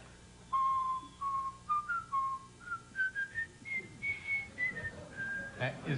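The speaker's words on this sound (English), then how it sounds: "Can we have a sample of your whistling?" A man whistles a lilting melody up close, clear sustained notes stepping gradually higher, ending with a brief noisy rustle.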